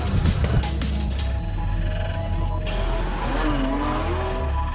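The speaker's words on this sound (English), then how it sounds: "I'm going to be driving my 1955 356 Outlaw out on the track today" A 1955 Porsche 356 Outlaw on a race track, its engine droning loud and steady up close with a sharp burst of revving at the start and a brief tire squeal later.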